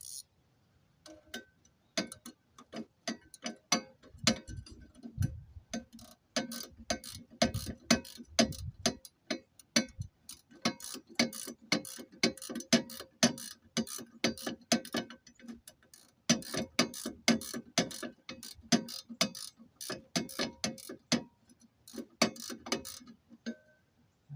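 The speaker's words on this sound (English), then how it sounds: "All right, we got a 14 millimeter ratchet." A 14 millimeter ratchet tightens a bolt while fitting a Hi-Lift jack mount, giving a long run of quick, close clicking strokes in uneven bursts with brief pauses, no talking.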